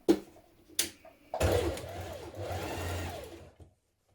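A sewing machine understitches a dress facing, sewing in short bursts with brief pauses between runs of stitching, close and clear with no talk.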